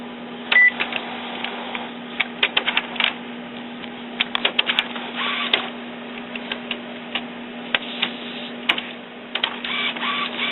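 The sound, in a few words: Epson inkjet printer printing a nozzle check page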